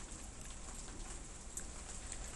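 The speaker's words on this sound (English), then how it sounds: "It's raining a little bit here." Light rain falls outdoors as a steady, soft, even hiss that holds for the whole stretch, faint and continuous with no voices over it.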